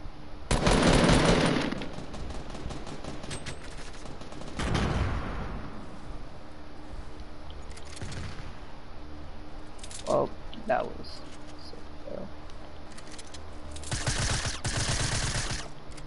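Bursts of automatic gunfire in a video game, a loud rapid burst at the start, another around the middle and one near the end, with quieter shots and talk in between.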